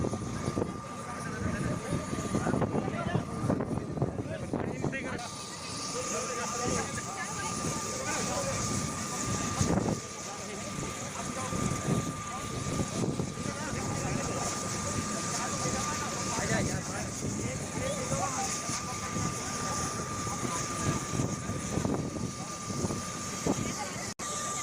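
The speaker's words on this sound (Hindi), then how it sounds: "मदन राम जी इनके यहाँ पोती हुई है और उनको वहाँ से ननिहाल से यहाँ नीमड़ी लाने के लिए ये हेलीकॉप्टर आया है।" A continuous helicopter engine roar with a steady whine, loud and nearby, while people talk over it throughout, in a village in Nagaur.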